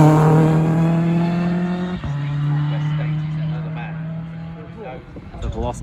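A Honda S2000 rally car runs past on a stage at the East Riding Stages Rally near Beverley, its engine a steady, close drone that briefly dips and then fades, with commentary over it.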